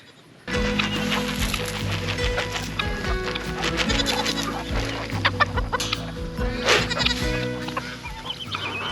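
Chickens cluck steadily close by on a farm, with a rooster-like call and some goat bleats mixed into the lively farmyard noise.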